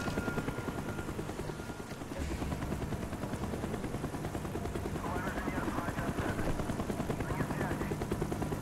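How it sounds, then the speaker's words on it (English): A helicopter's rotor in Call of Duty: Black Ops chops steadily throughout, loud and close, with bursts of gunfire and a voice mixed in. "Avoid the helicopter spot."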